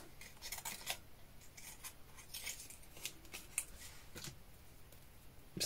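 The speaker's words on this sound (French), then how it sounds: "Et du coup, je vais en découper un." Small scissors snip out a tiny stamped paper shamrock for a Saint Patrick's card, giving quiet close clipping and crinkling sounds in short bursts over low background hiss, with no speech.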